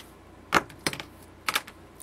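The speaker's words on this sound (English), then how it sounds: "take my wire cutters and just snip it off" Wire cutters snip through thin craft wire coiled around a pen in three or four sharp, close clicks spaced unevenly over two seconds, with no voices.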